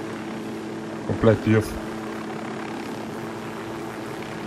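A helicopter in the open-world shooter Ghost Recon Wildlands drones with a steady rotor and engine roar throughout. Someone briefly speaks over it.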